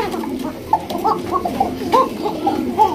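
Bashiraj pigeons kept in breeding cages coo in a steady run of soft, rolling calls, several birds overlapping close by against a low background murmur.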